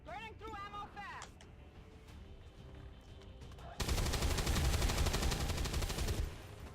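Sustained automatic ballistic gunfire in XCOM 2 that bursts in suddenly and runs loud for about two and a half seconds, preceded by voice chatter and quieter game sounds.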